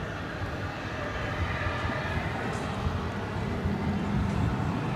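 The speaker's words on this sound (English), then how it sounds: "check out the aviation stylings of an A300" An Airbus A300 at DFW Airport gives off a continuous broadband jet roar that is moderately distant and rising slightly toward the end.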